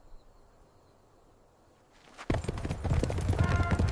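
Many horses approach at a Lakota camp, a rumble of hooves that starts abruptly after a quiet stretch and keeps up as a loud, dense thunder of clip-clop.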